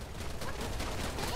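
PPSh submachine gun in the Wild Assault video game firing a continuous full-auto burst, dense rapid rattling shots with no break, loud and close.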